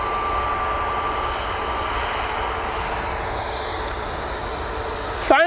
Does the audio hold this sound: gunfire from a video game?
no